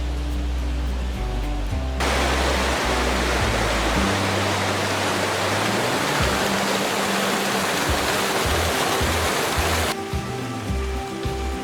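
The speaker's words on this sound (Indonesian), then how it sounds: "Sungai di tempat tenda kami ini mengalirkan air yang sangat dingin dan jernih" Cold, clear river water flows beside a campsite about 100 metres from the Curug Karembong waterfall, making a loud, steady, continuous rush. Some tonal background sound is audible at the start and end.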